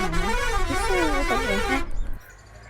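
A bus horn in the video game Bus Simulator India sounds as a loud, wavering melodic tune of warbling tones, playing for nearly two seconds before cutting off abruptly into quiet.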